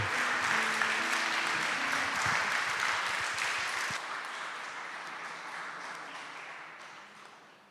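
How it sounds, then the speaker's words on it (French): Church congregation applauding and cheering together during a worship service, a dense, warm wash of clapping that holds steady for a few seconds, then gradually thins and fades toward the end. "Une acclamation pour le Seigneur, le roi de rois."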